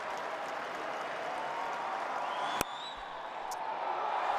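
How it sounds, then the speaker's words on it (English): A cricket stadium crowd begins a rhythmic clap as a batsman faces the bowling, a broad distant wash of many spectators with a sharp crack partway through and murmuring around it. "Oh, the clap begins."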